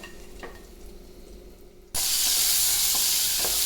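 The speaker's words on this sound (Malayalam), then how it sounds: "നന്നായിട്ട് ഇളക്കി ഇഞ്ചി വെളുത്തുള്ളി പച്ചമുളക് കറിവേപ്പില ഇതെല്ലാം ഒന്ന് മൂത്ത് വന്നിട്ടുണ്ട്" Ginger, garlic, green chilli and curry leaves stirred in oil: soft frying crackle and a few spoon knocks, then a sudden burst of loud, hissing sizzle about halfway through that carries on to the end.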